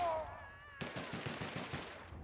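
Gunfire in The Outer Worlds video game, hitting a Marauder Lookout: an abrupt shot breaks in after a tonal whine, followed by a rapid run of repeated shots, moderately loud and close.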